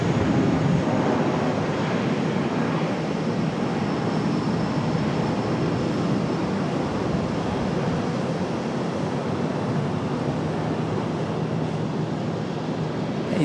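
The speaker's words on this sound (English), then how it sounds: "A319 departure." An American Airlines Airbus A319 jet departing Charlotte airport, a broad, steady roar that stays loud and constant throughout, with some wind noise on the microphone.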